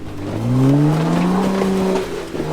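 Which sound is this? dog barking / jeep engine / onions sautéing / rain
jeep engine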